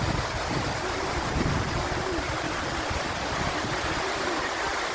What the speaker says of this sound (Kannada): ಚಿಕ್ಲಿ ಹೊಳೆ ಡ್ಯಾಮ್